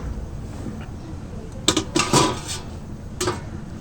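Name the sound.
lid being taken off a cooking pot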